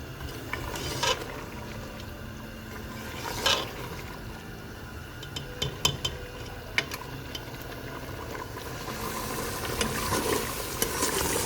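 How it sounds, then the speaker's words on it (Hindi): Mutton with spices being stir-fried on a high flame for paya, a continuous bubbling sizzle with occasional sharp knocks and scrapes of stirring, close by. "हाई फ्लेम पर हम इसकी भुनाई करेंगे।"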